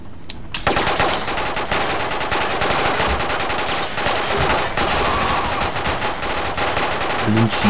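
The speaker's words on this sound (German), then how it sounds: "Blind schießen." Sustained automatic gunfire from the video game James Bond 007 Quantum of Solace, a loud continuous rattle of rapid shots filling the whole stretch with no break.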